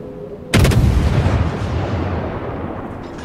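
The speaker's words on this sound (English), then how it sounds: "he's opening fire on me" Naval guns firing in the World of Warships game: one sharp, heavy salvo blast, then a long rumbling roar and echo that slowly fades, alone without talk.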